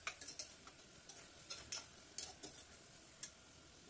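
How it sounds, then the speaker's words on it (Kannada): Tomato and onion fry in oil with turmeric and salt for a vegetable saagu, with a utensil scraping and clinking in the pan in a string of sharp, uneven strokes over a faint sizzle. "ಟೊಮೊಟೊ ಮತ್ತು ಈರುಳ್ಳಿ ಬೇಗನೆ ಫ್ರೈ ಆಗುತ್ತೆ."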